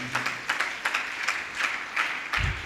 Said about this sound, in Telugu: నమ్మిన వారు చప్పట్లు కొట్టండి.